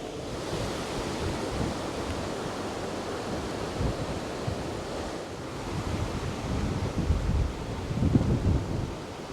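Strong wind buffets the microphone in low, uneven gusts on a narrowboat, with a continuous rushing roar that swells and eases.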